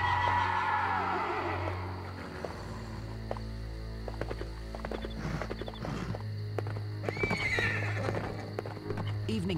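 A black horse whinnies near the start over a low steady hum, then hooves clip-clop irregularly with a few faint voices in the background, in a film scene.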